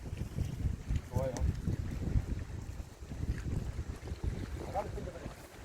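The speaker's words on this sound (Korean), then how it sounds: "저기 저 바람 부는데" Wind gusts at sea around a fishing boat out for black sea bream off the south coast, a rough, blustery rush buffeting the microphone while people talk nearby.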